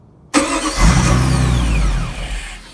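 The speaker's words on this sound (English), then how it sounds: "Sometimes it does idle for a little bit and then just dies." A car with a fuel delivery problem cranks and catches abruptly, its engine roaring up close and loud, settling into a brief rough idle that sags and fades as it begins to die, with no talking.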